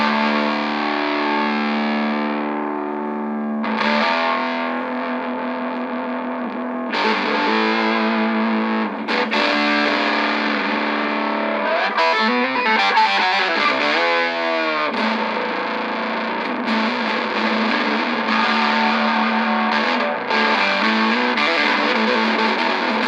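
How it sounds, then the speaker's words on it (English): Electric guitar played through a vintage phaser, a Boss OC-3 Super Octave pedal and amp distortion, giving thick sustained distorted chords and riffs with octave doubling that run steadily and loudly throughout with no talk. "going through the octave effect into the distortion on the amp."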